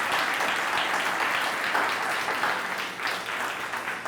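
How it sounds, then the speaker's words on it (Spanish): A church congregation claps together, a dense, steady round of applause that fills the room for several seconds and thins slightly toward the end. "Dale un aplauso al Señor, así nos animamos."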